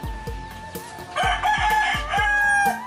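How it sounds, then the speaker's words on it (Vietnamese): A rooster crows in a rural hut setting at late morning, a long rising call near and loud over a background of repeated dull knocks and clatter. "Đó, gà gái đúng 11 giờ trưa."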